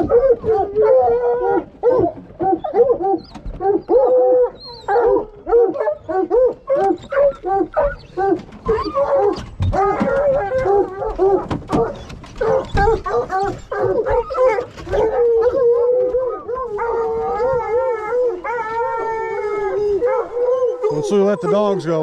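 Hunting hounds released on a bear hunt in the northern Maine woods bay and howl in loud, overlapping, drawn-out cries that carry on continuously, close by, for the whole stretch.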